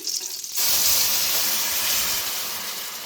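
Butter and milk heating in a pan for cheesy Maggi pasta, a sudden loud hiss and sizzle bursting in after a brief quieter moment, then holding steady and close until the end.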